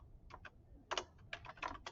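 Typing on a computer keyboard while writing a presentation slide: short irregular bursts of crisp key clicks, close and fairly quiet, alone with no talk.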